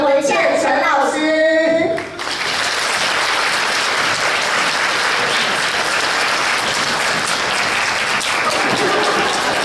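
A live lecture audience breaks into sustained, dense applause after a brief burst of voices at the start, welcoming guests onto the stage; clapping stays loud and steady throughout.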